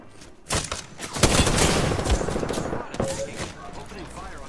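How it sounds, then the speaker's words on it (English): Gunfire in the video game Apex Legends, with Spitfire machine-gun fire in a ranked match: a loud, close, sustained burst of rapid shots that tapers into scattered reports, with some game voice underneath. "Opening fire on the enemy."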